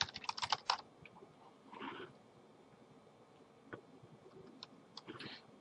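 Fast typing on a computer keyboard, a quick burst of close, crisp key clicks, then scattered individual taps and short bursts of keystrokes with no one speaking.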